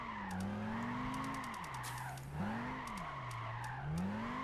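A Dodge Viper SRT10 drifts in Gran Turismo 5, its engine note rising and dipping in long sweeps while the tires screech steadily and loudly, with no talking.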